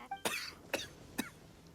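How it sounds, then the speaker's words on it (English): Three short coughs ring out in quick succession, evenly spaced and fairly faint, over a low background hum, in the video game Genshin Impact. "Why is everybody coughing?"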